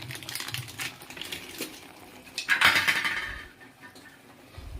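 Turmeric and chilli powder are stirred in a pan, producing close scraping and clinking of a utensil against metal in irregular strokes. One louder scrape rises midway before the sound settles again.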